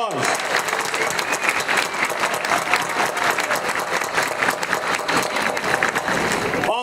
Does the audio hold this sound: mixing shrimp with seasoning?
no